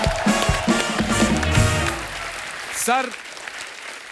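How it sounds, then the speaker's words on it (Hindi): Loud audience applause and cheering at a stage comedy show where a Udit Narayan impersonator appears, a short spoken word breaking through mid-clip before the clapping fades into crowd murmur. "जोरदार तालियां इनके लिए।"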